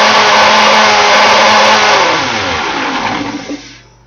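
A blender whirs loudly and steadily while blending a smoothie with extra juice, its lid off because of a hole, then the motor winds down and fades toward the end.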